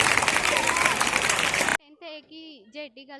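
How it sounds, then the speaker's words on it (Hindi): Loud crowd applause for a child at a school exam prize ceremony fills the first half, then cuts off abruptly and a single voice speaks alone. "जोरदार तालियां इस बच्चे के लिए।"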